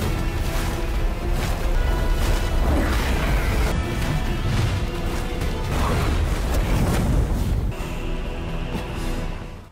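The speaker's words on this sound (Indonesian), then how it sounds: "teknik Vermilion Api Xiao meledak tepat di depan Mingzi" A fire technique explodes in an animated fantasy series, loud, dense blasts and crashing whooshes rolling through the whole stretch, layered with dramatic score and settling into a sustained tone near the end.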